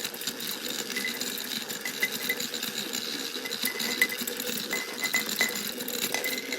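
Electric mixer whipping a dessert mixture until foamy, a continuous close whirring motor with light clinking from the beaters against the bowl.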